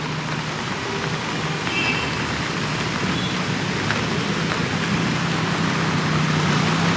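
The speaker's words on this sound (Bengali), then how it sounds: "শহর কলকাতায় সকাল থেকেই মুষলধারে বৃষ্টি" Heavy monsoon downpour over Kolkata, a dense, continuous roar of rain that stays steady and loud from start to finish.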